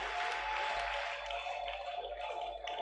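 A church congregation at a French-language morning prayer gathering applauds and cheers in acclamation. The clapping and cheering form a continuous wash with crowd voices and a faint sustained tone, moderately distant.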